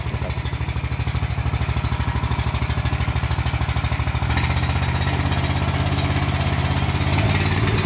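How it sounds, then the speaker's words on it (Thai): A sawmill engine on a circular-saw rig drums loud and steady nearby with a fast even thumping beat. Midway the pitch rises and grows rougher as the engine speeds up, and it keeps running with no voices over it. "ตอนนี้ก็สตาร์ทเครื่องนะครับ"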